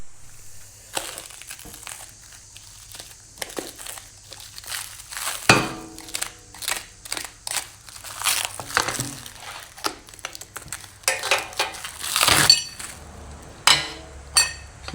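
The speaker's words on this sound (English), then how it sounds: "So we'll open the package first, see what's in it" A plastic package holding a bronze slide replacement kit for a Wolfe Ridge 22 RS is torn open, with loud crinkling, crushing and rustling plus small clinks of parts, close and continuous.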